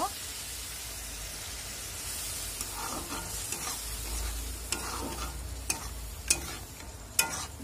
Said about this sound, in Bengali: জল দিয়ে জিনিসটাকে কষিয়ে নেব।